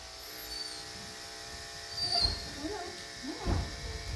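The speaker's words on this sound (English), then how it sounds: "Just going to shave a little bit." Electric clippers shave fur from a cat's leg before a venipuncture blood draw, making a quiet, steady buzz throughout, with brief whimpering animal sounds rising over it.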